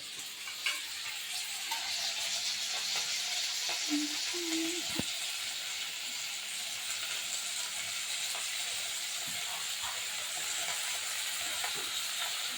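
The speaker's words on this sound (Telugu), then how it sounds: "ఇవైతే బాగా వేగనివ్వాలి ఇది వేగుతూ ఉన్నప్పుడే" Onions fry in oil in a pan with a steady, close sizzle throughout, dotted by faint clicks and a few brief scraping stirs.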